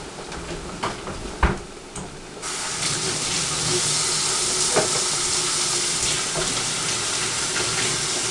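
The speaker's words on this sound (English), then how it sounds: "what we're doing here is frying an egg sandwich" An egg sandwich fries in a little butter in a pan, giving a steady close sizzle that swells after a few light clatters at the start and then holds even.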